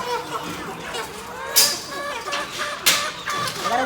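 Live chickens cluck and murmur in a busy, noisy setting, with a steady bed of clucking and two sharp clattering knocks standing out.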